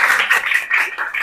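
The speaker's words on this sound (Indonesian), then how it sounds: "Tepuk tangan buat kita semua" A classroom group claps hands together in a quick, dense burst with a slightly rhythmic pulse, loud and close, and no voices over it.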